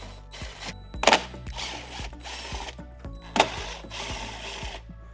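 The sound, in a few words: power driver with T30 Torx bit on low speed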